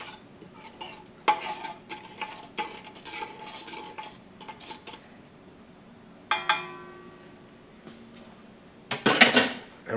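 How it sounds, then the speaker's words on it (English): Milk being stirred into a sourdough starter mixture: bursts of rapid clinking and scraping as a spoon works against a bowl, separated by quiet pauses, with a louder rattling flurry near the end. "Now I want to add our milk. Going to give this just a stir."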